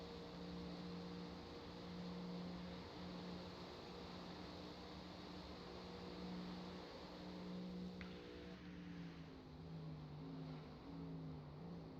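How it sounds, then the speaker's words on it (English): A steady harmonic drone from the tires of a GTP car in the iRacing sim at the Daytona 24-hour race, with stacked tonal bands held under continuous engine and wind noise throughout. "I'm getting that weird tire audio again."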